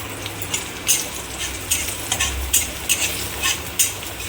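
Oil with turmeric sizzles steadily in a pan while a utensil scrapes and stirs in regular, repeated strokes, close and fairly loud.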